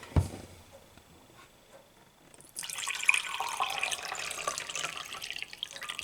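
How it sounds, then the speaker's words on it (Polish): After a quiet pause, water starts pouring steadily into a container, a continuous splashing stream that lasts until the end. "I wlejemy sobie teraz wody"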